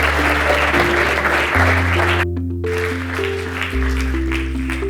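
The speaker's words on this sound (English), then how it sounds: "join me in giving a huge round of applause" An audience at a sustainability symposium gives a full, steady round of applause that fills the room, with sustained music playing underneath.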